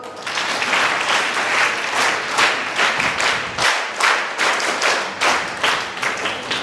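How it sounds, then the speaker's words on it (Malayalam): Students in an audience give a loud round of applause at a school anniversary, dense clapping that swells in rhythmic waves and keeps going for the whole stretch. "നല്ലൊരു ക്ലാപ്പ്."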